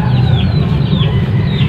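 Laying hens on a small farm keep up a steady, close murmur of low clucking, a dense continuous chatter of several birds with no talk over it.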